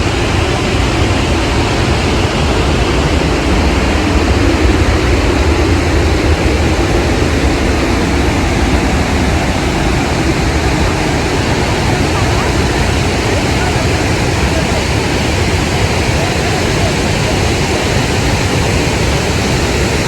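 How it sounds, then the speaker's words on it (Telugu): Kohedagutta waterfall near a highway outside Hyderabad runs heavy in the rainy season, a loud, unbroken roar of rushing water filling the whole scene. "వర్షాకాలం కదా, సో వాటర్ చూడండి ఎంత ఎక్కువగా వస్తున్నాయో."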